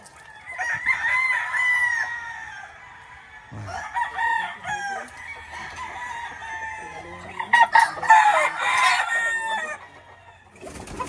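Several white Kelso broodcocks tied up in a yard crow in turn, long drawn-out calls overlapping one another, with clucks and brief scuffling between the crows and a burst of louder crowing near the end.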